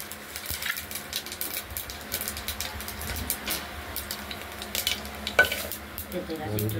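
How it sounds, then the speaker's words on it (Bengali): Panch phoron, a five-spice mix, sizzles and crackles steadily in hot oil in a pan, a close, continuous frying hiss with occasional stirring clatter and no voices. "ফোড়নটা গরম তেলে দিয়ে দিলাম।"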